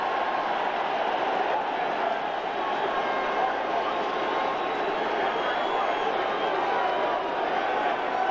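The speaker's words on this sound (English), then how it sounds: "Listen to the applause for the Bear defense." A big stadium crowd at an NFL championship game between the Rams and the Bears in Chicago keeps up a continuous roar of applause and cheering, a broad wash of noise from start to finish.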